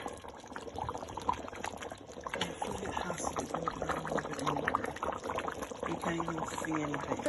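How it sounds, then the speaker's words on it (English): Oxtail stews in a pot with added water, giving a steady, continuous bubbling simmer with small liquid pops and splashes throughout, close and moderately loud. "I'm going to go ahead and add it back to the pot and let that also stew with the oxtail"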